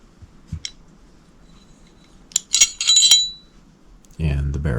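Metal parts of a Sig Sauer M11-A1 pistol, the recoil spring and metal guide rod, clink and tap together during a field strip, a few sharp close clicks and a brief jingle, with a voice at the end.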